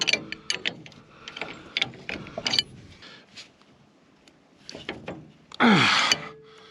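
A ratchet tightening a bolt on a digger in the open: a run of close, quick clicking strokes, a quieter pause with a few more clicks, then a loud metallic scrape near the end.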